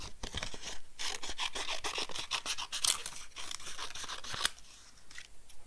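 Scissors snip through paper card while a wave-patterned card is made with sponge-daubed gradient inking, giving a quick run of crisp, close cutting crunches that stops near the end.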